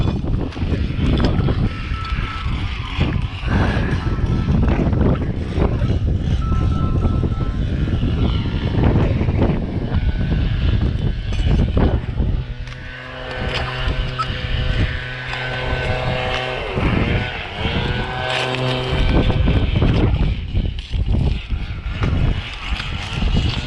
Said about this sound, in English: We got pretty good 15 to 20 mile-an-hour winds, pretty consistent today.